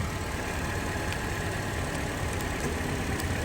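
A compressor engine runs with a steady, even drone that is close and continuous from start to finish, after its relay has clicked on.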